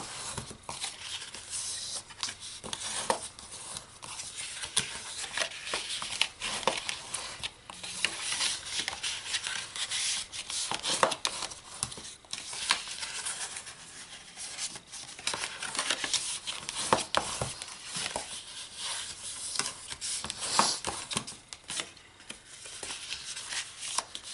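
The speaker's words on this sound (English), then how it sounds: "let's fold and burnish all of our score lines." Paper is folded and burnished along score lines while making a small bubblegum box, giving a steady run of close crinkling, rubbing and scraping strokes that repeat in irregular bursts, with no voices.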